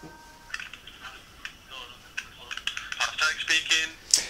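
Phone handling before a call to Volkswagen about a Caddy locked with its keys inside: scattered faint taps and clicks, then a brighter stretch of repeated ringing-like electronic tones toward the end, with someone talking.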